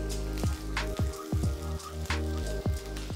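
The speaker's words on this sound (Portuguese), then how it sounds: "a gente vai refogar cebola" Chopped onion with a little salt sautés in butter in a pan, giving a steady, close crackling sizzle broken by a few regular knocks, as from stirring against the pan.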